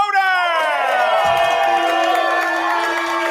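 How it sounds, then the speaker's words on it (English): A loud studio crowd at a movie trivia game show cheers and whoops, a close, sustained roar of many voices with rising shouts that holds steady throughout. "Throaty crowd here today. I mean, they are definitely loud."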